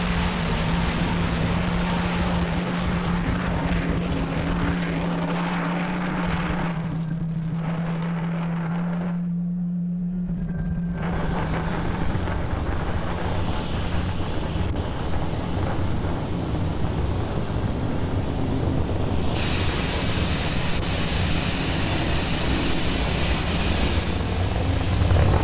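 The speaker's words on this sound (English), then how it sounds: "Falcon 9 has had a successful liftoff from pad 39A" A SpaceX Falcon 9 rocket lifting off from pad 39A during a Starlink launch gives a sustained, distant rumbling roar that carries on for the whole stretch, with wind buffeting the microphone.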